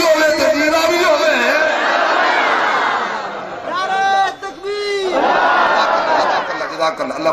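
Crowd at a religious gathering shouting slogans together, a loud massed roar with a brief sung call in the middle, then the crowd surging again.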